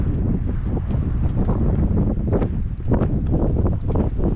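Strong wind buffets the microphone on a golf course at BlueOne Yongin, a steady loud roar with gusty surges throughout and no voices.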